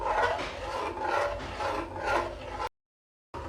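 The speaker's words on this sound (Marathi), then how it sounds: "आपण हे आता यात गव्हाच्या पिठाचं मिश्रण टाकलेलं आहे, आता ते आपण सारखं हलवत राहणार आहोत।" Wheat flour mixture is stirred into boiling milk in a pot, giving close, rhythmic scraping and rubbing strokes in repeated waves. A short silent gap comes before the stirring resumes.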